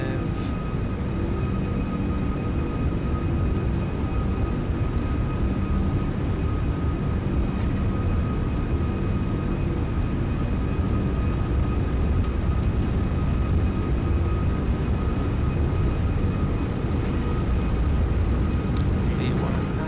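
Simulated jet engine roar from an Airbus A340-600 accelerating down the runway on its takeoff roll in X-Plane 11, a steady loud broadband rumble throughout with a faint tonal whine and a voice talking over it.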